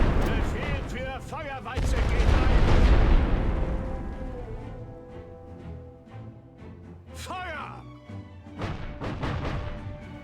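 Artillery barrage from The Great War: Western Front, a World War I strategy game: dense, loud rumbling booms and blasts that swell into a sustained roar, then ease back. Speech can be heard faintly underneath.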